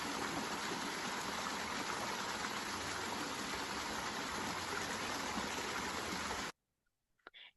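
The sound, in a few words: water flowing through a canal at Río Blanco, Chiapas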